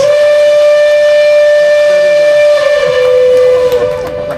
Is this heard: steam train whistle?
yes